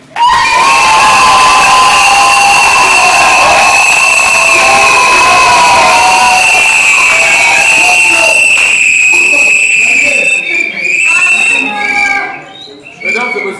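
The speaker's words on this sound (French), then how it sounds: "on applaudit pour nous-mêmes." Wedding guests at a French civil ceremony break into sustained, loud applause and cheering, a dense wash of clapping with whoops that carries on for about ten seconds before thinning out near the end.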